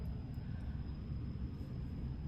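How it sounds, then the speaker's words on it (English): Airplane on its landing approach to an airport, circling in over a lake, heard as a steady, broad low engine rumble that holds constant throughout with no talking. "the planes are always gonna be coming in"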